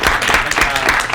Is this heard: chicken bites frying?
no